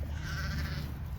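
Sheep and lambs bleat on a farm as ewes come up for feed, a close, continuous chorus of overlapping bleats.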